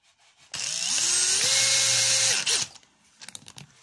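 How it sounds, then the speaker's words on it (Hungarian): A power drill bores holes into oak wood for a kitchen knife handle, whining loudly and steadily for about two seconds with a pitch change midway, then winding down and stopping, followed by faint handling knocks. "Na, fúrjunk egy pár lyukat."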